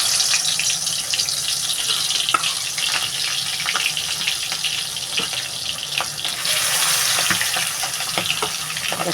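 Gagra fish pieces splutter in hot oil in a wok, making a continuous loud frying hiss peppered with sharp crackling pops, heard close and alone.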